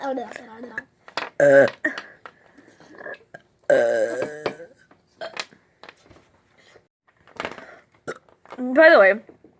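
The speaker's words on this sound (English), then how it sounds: "we're chugging our pop right now until we burp" Several loud, close burps erupt after people chug soda, arriving in irregular bursts separated by short silences, some drawn out and throaty, with voices present between them.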